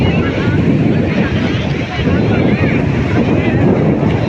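Steady wind roars across a beach with broad surf wash beneath it, loud and continuous, briefly dipping near the two-second mark before resuming. A voice may be faintly present under the noise.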